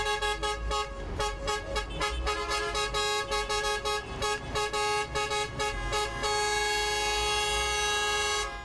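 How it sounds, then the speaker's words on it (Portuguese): Buses lean on their horns during a street protest by tour and charter bus companies blocking the main avenues of Teresina, Brazil, a loud overlapping chorus of sustained and pulsing honks that swells, then holds as one continuous blare. "Em cada cruzamento, buzinaços."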